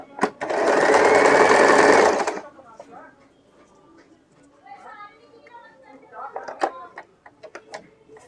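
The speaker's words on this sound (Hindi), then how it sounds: "तो बस अब अभी मैं आपको स्टिचिंग करके बताती हूँ" A sewing machine stitches layered blouse fabric in a loud, close, continuous burst lasting about two seconds at the start, followed by someone talking quietly over light handling sounds.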